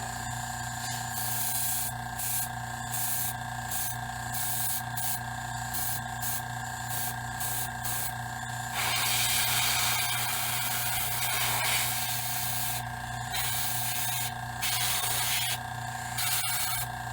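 Airbrush spraying paint onto homemade latex zombie hands, a steady airy hiss broken into short bursts with brief pauses, then a longer continuous spray near the end.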